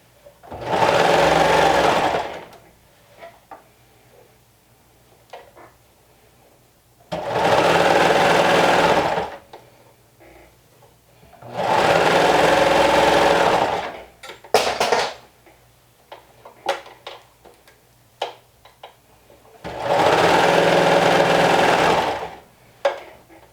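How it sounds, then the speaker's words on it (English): A sewing machine stitching fabric edges runs in four loud, steady bursts of rapid whirring, separated by quiet pauses filled with small clicks and fabric handling. "Make sure that the raw edges stay aligned as you sew."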